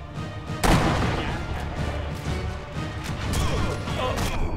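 Gunfire striking the player character in the co-op shooter Sniper Elite V2, with a sharp loud crack followed by a dense, rumbling stretch of impacts and battle noise.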